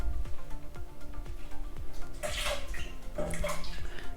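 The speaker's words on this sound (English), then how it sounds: "pour 2 liters of water in a pan" Two liters of water splash and gurgle into a pan for miso soup in steady rushes, with a few louder splashy bursts partway through, fairly close and continuous.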